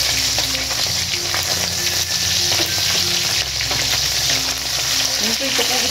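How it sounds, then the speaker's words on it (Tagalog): Salted fish fries in a pan with a steady, dense sizzle and crackle that stays loud and close throughout, with no talking. "So iprito muna natin hanggang sa maluto siya guys."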